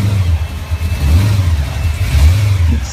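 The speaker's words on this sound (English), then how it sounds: "Donk Chevy, this lower twin carburetor and big block." Chevy donk with a big block and twin carburetors, its V8 revving loud and close in deep rising and falling pulls over a throaty idle.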